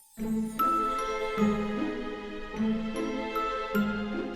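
Bright, tinkly carousel-style music plays steadily, with bell-like tones and a repeating oom-pah pulse underneath, somewhat distant and moderately quiet.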